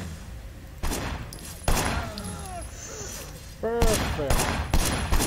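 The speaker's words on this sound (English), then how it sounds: "There was a shooter firing shots from the passenger window." Gunfire in the Sleeping Dogs video game as a shooter fires from a car's passenger window, with several sharp bursts of shots over engine noise and a brief spoken word.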